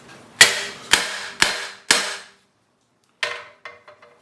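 Sheet metal is hammered over a trailer ball to form a dimple: four loud, evenly spaced ringing metallic blows, then a pause and a quicker burst of lighter, fading taps.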